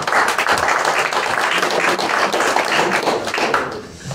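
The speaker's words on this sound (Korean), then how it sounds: "우리 박수는 한 번에 몰아서 칩시다" Audience applause fills a church hall during a mission forum, a dense, steady crackle of many hands clapping together at close range, easing off near the end.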